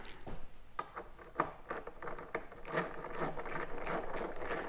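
A hand ratchet clicks in quick, uneven bursts while windshield bolts are tightened on a 2024 Harley-Davidson Road Glide, close and fairly quiet with short pauses between strokes.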